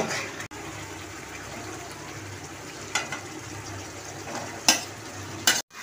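Chicken stirred and fried in a thick spice masala in a pan: a steady close sizzle with spoon scrapes and a few sharp clatters as the pieces are turned.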